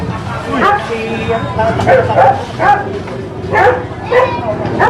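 A dog barks and yips repeatedly in short bursts, close and loud, with people talking over the noise.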